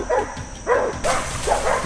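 Hunting dogs during a wild hog hunt, a few sharp close barks and yips in quick irregular succession, loud against a quiet outdoor background.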